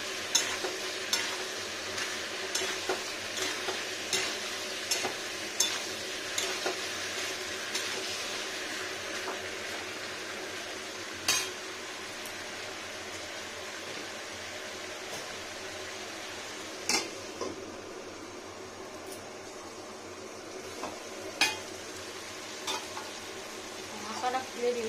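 Papaya pieces being stirred and fried in a pan over high heat for a vegetarian papaya and potato curry make a continuous sizzle, with repeated scraping stirring strokes at close range.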